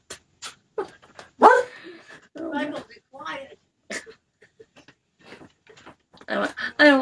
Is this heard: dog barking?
yes